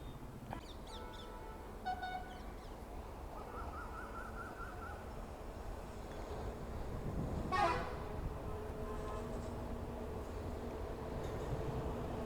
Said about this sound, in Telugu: సో ట్రైన్ అయితే వస్తుంది